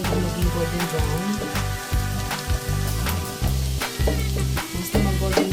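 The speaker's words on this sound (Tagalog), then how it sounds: "lagay ko yung garlic. Lutuin lang po hanggang maging golden brown." Garlic fries in melted butter in a pan, a dense, steady sizzle with crackles and stirring scrapes, close and prominent, with music playing underneath.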